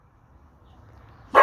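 A single short dog bark bursts out near the end of a quiet stretch, close and fairly loud, from a rescue dog acting as a neighborhood alarm.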